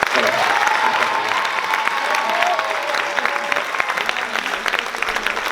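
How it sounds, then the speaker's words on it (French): An audience at a church cantata performance applauds a firefighter with sustained, loud clapping, joined by a little cheering and crowd murmur, and a voice speaks briefly over it. "Je vous demande de l'applaudir aussi."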